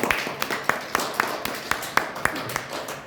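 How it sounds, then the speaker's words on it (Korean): A small audience at a general meeting of a well-dying culture institute claps in a steady, evenly spaced rhythm of about nine distinct claps over a quiet room, close and fairly crisp. "하나님 앞에 영광의 박수 한번 올리시죠"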